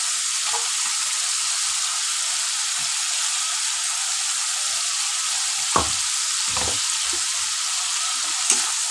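Ginger paste fries in a pan for a prawn and banana flower dish, giving a steady close sizzle throughout with a few soft stirring scrapes and taps.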